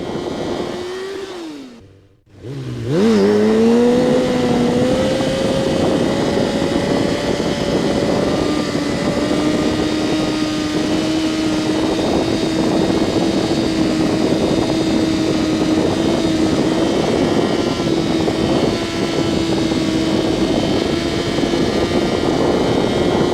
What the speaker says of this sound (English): I'm throttling up a wheelie.